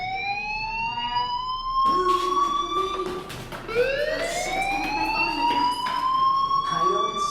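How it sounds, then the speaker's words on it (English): An electronic fire alarm in the Life Is Strange video game sounds repeated rising, sweeping tones, loud and continuous for several seconds with a steady siren-like wail and some faint voice or noise underneath. "do you hear that fire alarm? That means you should be outside."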